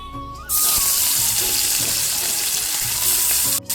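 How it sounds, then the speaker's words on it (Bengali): Prawns drop into hot white oil in a wok and set off a sudden loud, sustained sizzle that starts about half a second in. It hisses evenly until a brief break near the end, with no voices. "বন্ধুরা আমার তেলটা গরম হয়ে গেছে আমি এবার চিংড়ি মাছগুলো ভেজে নেব"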